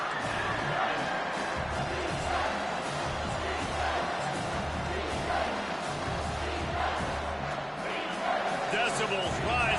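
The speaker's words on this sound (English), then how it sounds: "Decibels rising as the crowd gets behind this defense on third down." A football stadium crowd cheers for the defense on third down, a loud, dense roar that holds steady throughout, with a commentator talking over it.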